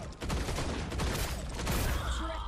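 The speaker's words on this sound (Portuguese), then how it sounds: "Esse tiro automático atrapalha um pouco" Rapid bursts of automatic gunfire crackle continuously, dense and sharp, from the video game T3 Arena, at a steady moderate volume.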